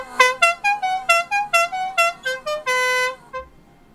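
A WOLO Godfather air horn fitted to a TVR 280i sounds a rapid string of about ten short, loud, melodic toots, then one sustained multi-tone blast before cutting off.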